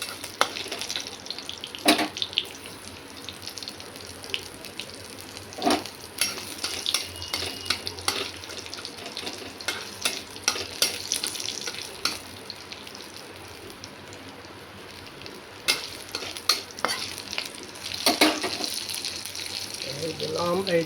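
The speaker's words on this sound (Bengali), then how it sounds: "এবারে দেবো 5 ফোড়ন, এটা চমকাবো" Panch phoron spices sizzling in hot oil with bay leaf, green chilies and vegetables for a Bengali carrot, eggplant, raw banana and potato dish; a soft steady frying hiss broken by sharp spatters and stirring clicks.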